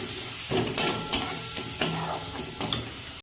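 Ground cumin, turmeric and red chili powder sizzling in hot oil, a soft steady sizzle broken by about four sharp, rhythmic stirring scrapes close by.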